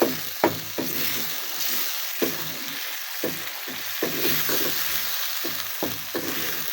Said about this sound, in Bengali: আমি এবার এতে একটা ছোট একটা টমেটো দিয়ে দিচ্ছি আমি আর একটু ভালোভাবে কষিয়ে নিচ্ছি